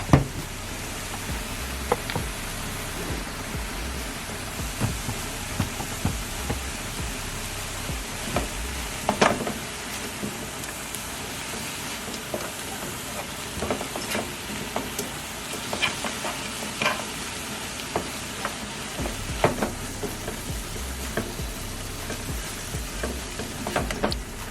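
Salmon frying in a pan for a garlic honey glaze, a continuous soft sizzle with scattered small pops and stirring clicks throughout, close and steady, no voices.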